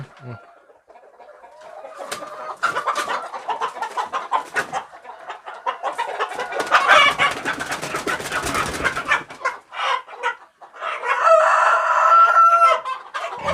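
Kampung chickens cluck busily close by while a rooster crows loudly, with some faint voices and scuffling in the background.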